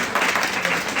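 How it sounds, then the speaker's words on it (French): Audience applause at a handball federation conference, a brief dense burst of clapping from the room lasting about a second. "On peut les applaudir, s'il vous plaît."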